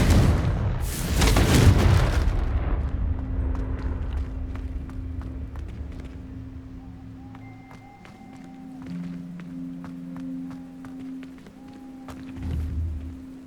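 A Confringo spell explosion in Hogwarts Legacy lands as a loud, sudden boom that rumbles and fades over a couple of seconds, followed by quieter footsteps and scattered game sound effects.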